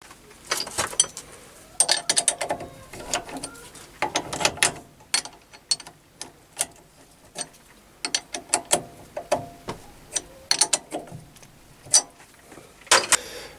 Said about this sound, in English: I'm going to be turning this recess here and tidying up a knurl